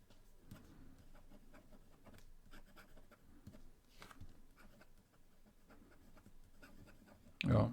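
Nib of a Jinhao 599 fountain pen writing on paper: faint, close scratchy strokes in an irregular rhythm, with a brief louder bump near the end.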